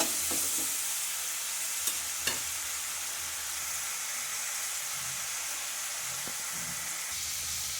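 Fish-head masala fries in oil, a steady close sizzle with a couple of sharp spoon knocks and occasional stirring scrapes against the pan, continuing without talk.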